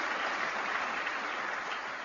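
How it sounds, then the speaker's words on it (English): Audience applause at a political event in Indiana, a dense, steady wash of clapping that holds at an even level throughout with no voices above it. "We ought to give these companies a round of applause"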